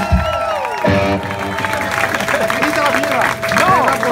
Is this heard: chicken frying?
no